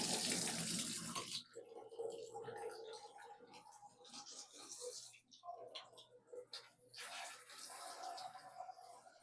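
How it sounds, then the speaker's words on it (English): Water spraying from a newly installed shower head, a hissing rush that starts loud, then breaks and shifts as the flow is moved about, with a person talking intermittently. "let's turn on the water and check it out."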